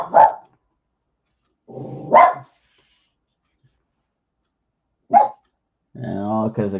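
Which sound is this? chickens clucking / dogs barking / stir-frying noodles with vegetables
dogs barking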